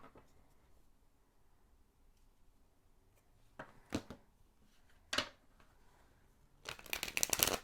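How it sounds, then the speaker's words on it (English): Tarot cards are shuffled in a quiet room: a few soft riffles and taps at first, then a longer, crisper flurry of card shuffling at the end, close by. "let's get some cards"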